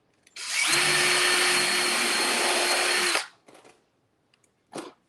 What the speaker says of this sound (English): I've got my drill, and I'm just going to drill a couple different places.